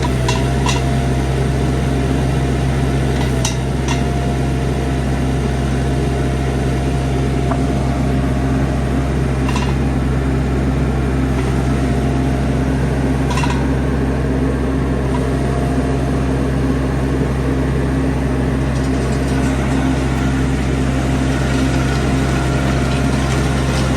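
A new Wacker Neuson SM120 machine runs steadily with its engine droning at a constant low idle-like hum, loud and unbroken, with occasional faint clicks and no talking.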